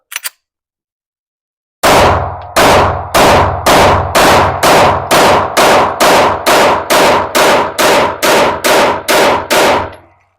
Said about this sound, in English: We're just going to run straight through one, straight to the other one, 17 rounds in each mag.